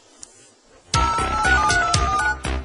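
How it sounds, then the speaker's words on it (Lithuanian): A telephone rings loud and close for a viewer's call into a Lithuanian TV studio debate show, a bright electronic ringtone pulsing in quick repeated bursts after a short quiet start. "Dabar dar vienas skambutis į mūsų studiją."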